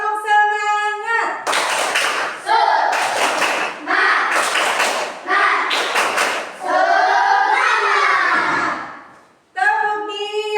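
A class of fifth-grade pupils claps a rhythmic spirit clap (tepuk semangat) in several loud bursts of quick claps, with chanted voices between and over them in a classroom.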